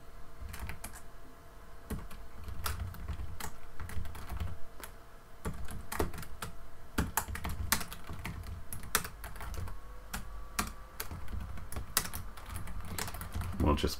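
Computer keyboard keys clatter in quick irregular bursts while someone codes a webpage, sharp clicks scattered steadily across the span with short pauses, alongside someone talking quietly.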